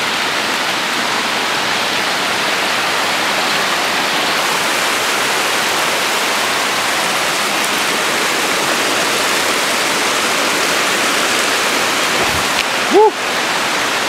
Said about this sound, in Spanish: Vamos a dejar la cascada aquí atrás